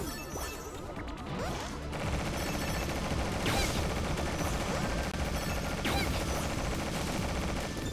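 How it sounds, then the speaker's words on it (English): Constant gunfire in the video game Freedom Planet 2, a dense unbroken barrage of rapid shots and impacts layered over game music, loud and relentless throughout. "There's something up there that's just constantly pelting."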